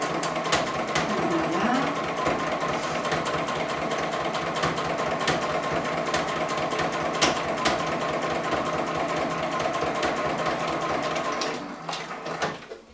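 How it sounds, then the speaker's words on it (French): A sewing machine runs continuously, sewing a seam on a fabric protective mask with a close, even rapid stitching hum that holds steady for nearly the whole stretch before winding down at the end. "Et on va faire une autre couture."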